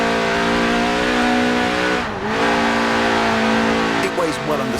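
A 1.8-litre Lotus Elise screams at high revs in Forza Horizon 4, the steady engine note briefly dipping as it shifts, then climbing again with tire squeal and skidding near the end. There is no talk over the car.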